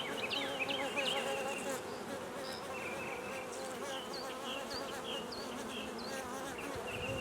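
A dense, steady hum of many honey bees buzzing close by fills the whole stretch, with occasional higher whines as individual insects pass.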